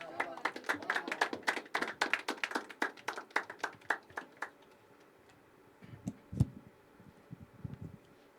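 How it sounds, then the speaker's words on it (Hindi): Dense, rapid hand-clapping from an audience at a poetry open mic at The Habitat, a steady burst of applause lasting a few seconds before fading into quieter room sounds and murmuring. "तालियां बजाते रहो यार"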